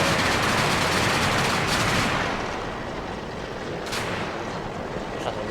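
Tank combat in a Roblox battle game fills the space with dense rumbling gunfire and explosions that blur together into a loud, continuous roar before easing slightly, with a couple of sharper blasts near the end.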